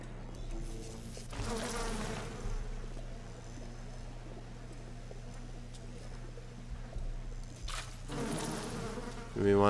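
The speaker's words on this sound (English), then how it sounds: "We want to play with some bees." A swarm of bees drones and buzzes throughout in the video game BioShock, a steady close hum that swells louder in brief bursts, with short voices here and there.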